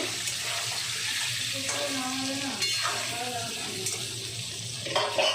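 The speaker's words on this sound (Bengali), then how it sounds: "এরকম আলুগুলো ভাজছি" Potatoes fry in a pan at home with steady sizzling and occasional stirring, alongside running water and other kitchen clatter at moderate, close range.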